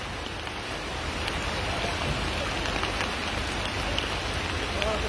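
Heavy rain pours steadily during a flash downpour in Ünye, a dense, loud wash of rainfall hitting surfaces continuously with no break and no voices.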